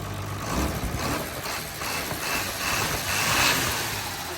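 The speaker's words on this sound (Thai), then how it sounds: "เครื่องตัวนี้เป็นเครื่องฮีโน่หกสูบนะครับ HO 7D ร้อยเก้าสิบห้าแรงนะครับ" Hino six-cylinder HO7D 195 hp engine in a ten-wheel truck idling steadily up close, a continuous rumbling drone with slight surges and no voices.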